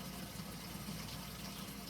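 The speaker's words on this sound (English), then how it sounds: "So you fill it back up with water" Water runs into a brewing pot to refill it, giving a faint, steady, low gushing fill with a hollow, resonant tone that holds for a couple of seconds.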